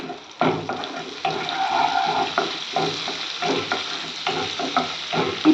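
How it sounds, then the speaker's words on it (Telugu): Cumin, cinnamon, cloves, cardamom and bay leaf fry in butter for paneer butter masala, a soft crackling sizzle with intermittent stirring scrapes in a pan, fairly close. "జీలకర్ర, చెక్క, లవంగాలు, యాలకులు, బిర్యానీ ఆకు వేసి ఫ్రై చేసుకోవాలి."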